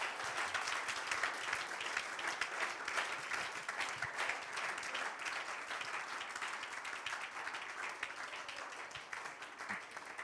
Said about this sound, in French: Juste donner une offrande d'applaudissement au Seigneur Jésus-Christ